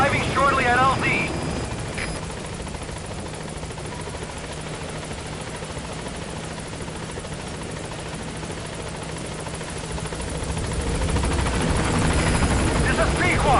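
The Pequod helicopter from Metal Gear Solid V arrives, its rotor chop a steady loud whirring drone that swells again toward the end, with radio voices talking over it.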